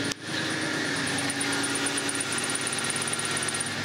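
A Volvo car runs steadily at close range, its engine hum constant throughout with a thin, persistent high whine riding on top and no voices.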